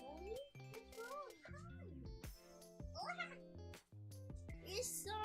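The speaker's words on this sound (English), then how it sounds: "That's my cat. Hold on. Let me let the cat in." A pet cat meows loudly and insistently, with several drawn-out, rising and falling cries one after another, close to the microphone, between short pauses.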